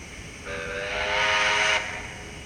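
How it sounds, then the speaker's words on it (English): Whistle from an ESU sound decoder in a model railway locomotive, a single sustained steam-style toot lasting over a second, clear and close against a steady background hum. "Function 2 is the whistle."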